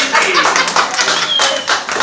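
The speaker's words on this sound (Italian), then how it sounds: "Intanto vogliamo fare un caloroso applauso al nostro amico" An audience at a live entertainment show gives a warm round of applause, loud close clapping with uneven bursts and a little crowd noise throughout.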